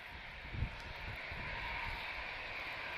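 A DHL Boeing 757 taxiing at Lisbon Airport, heard as a steady, fairly distant jet engine whine and rumble with broadband wind-like noise, holding constant throughout with one brief low thump early on.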